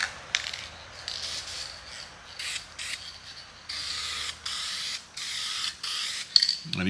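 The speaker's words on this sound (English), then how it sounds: "you just spray the stuff on there just like you would the paint" Coating sprayed from an aerosol can onto cleaned 1969 Ford F100 door handles, a string of short hissing bursts with brief gaps between them, close but fairly quiet, with no talking.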